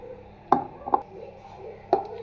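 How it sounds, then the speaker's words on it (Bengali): A knife chopping food into small cubes on a board, three sharp close knocks spaced unevenly over a quiet background. "দুইটা আমি এখানে কেটে নিচ্ছি, একদম কিউব কিউব করে কেটে নিচ্ছি।"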